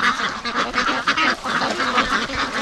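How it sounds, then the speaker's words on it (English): A flock of free-range ducks at a lake quacks in a dense, overlapping chorus, close and steady throughout with no voices. "Look at this for a stream of ducks."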